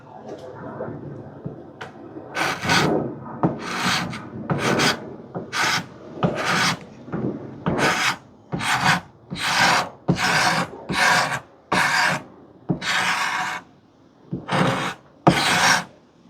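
A Parkside multi-purpose scraper scrapes hard epoxy primer off glued plywood in a rapid series of loud, raspy strokes, short bursts with brief pauses, close up, plus a little faint talk early on.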